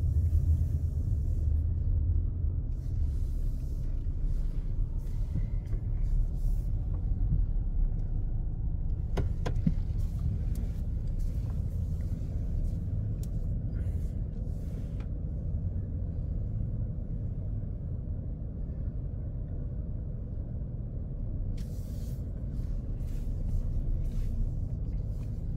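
Highway traffic full of cars on a road trip from Florida to Indiana, heard from inside a vehicle: a steady low road rumble of passing cars throughout, fairly faint, with a few brief clicks and no talking.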